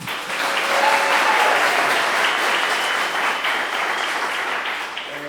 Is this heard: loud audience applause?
yes